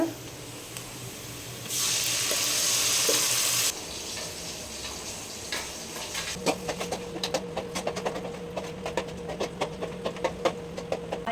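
Ground masala mixed with turmeric and salt hits hot oil with a loud broadband sizzle that lasts a couple of seconds, then eases into a steady low fry with scattered crackles and pops.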